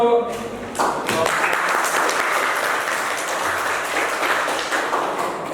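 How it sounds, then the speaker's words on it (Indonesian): A room of people breaks into applause after a voice at the start, the dense clapping swelling quickly and continuing steadily at close range to the end. "Ya, tepuk tangan untuk"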